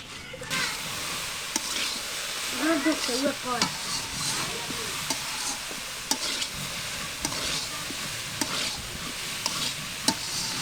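Winged beans frying in a pan are stirred often, giving a steady hiss of oil with scattered scraping clicks from the utensil, and a faint voice or chirp rises briefly near the middle.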